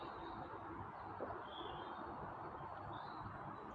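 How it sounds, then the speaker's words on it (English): Birds tweet faintly outdoors in a quiet natural setting after morning rain, a few thin high chirps scattered over a soft steady background hiss. "You can hear the birds tweeting away."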